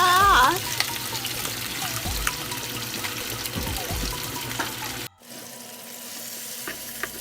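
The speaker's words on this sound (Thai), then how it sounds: "เราก็มาผัดหมูกันให้เกือบสุกก่อนนะคะ" Pork sizzles with garlic and vegetable oil in a hot pan for stir-fried udon, a steady close frying hiss with scraping stirs, quieting sharply near the end.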